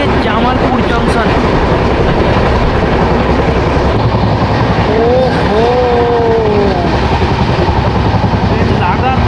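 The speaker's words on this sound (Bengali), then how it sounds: "ট্রেন লাগাতার 130 কিলোমিটার প্রতি ঘন্টা গতিতে ছুটে চলেছে।" New Delhi - Malda Town Express rushing along at about 130 km/h through Bihar, its loud, steady roar and rumble filling the whole stretch, with a voice speaking briefly over it midway.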